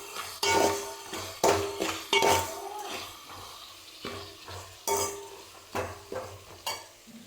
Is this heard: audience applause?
no